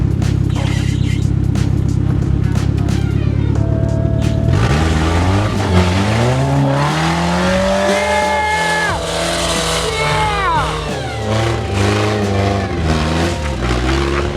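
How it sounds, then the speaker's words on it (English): A Toyota RAV4 engine revs hard at full throttle and rises in pitch as it accelerates in reverse, loud and close, with straining, wavering engine tones. "Just like floor it and reverse."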